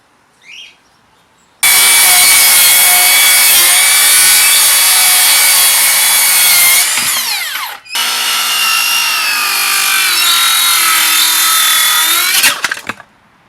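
A cordless 36-volt power saw rips through wood in two long, loud cuts, its motor whining steadily and winding down briefly between passes before stopping.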